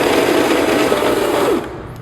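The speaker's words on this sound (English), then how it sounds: "I actually heard the grinder start struggling because there was nowhere for the coffee to move out of" Electric coffee grinder loaded with coffee beans for cold brew, grinding with a loud, steady whirring roar that cuts off near the end of the short clip.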